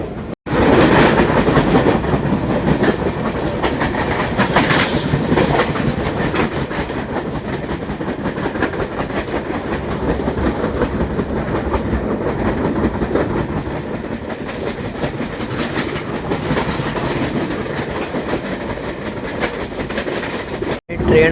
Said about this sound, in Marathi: ट्रेन आता दातिवली स्किप करते.